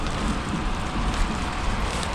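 Steady rain patters evenly over shallow, clear water on a fishing outing. It forms a dense, unbroken hiss close by with no voices.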